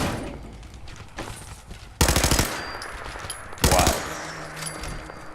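Rapid bursts of automatic gunfire in Fallout 4 aimed at a Radroach, two loud rattling volleys plus scattered quieter shots and game ambience, close and punchy.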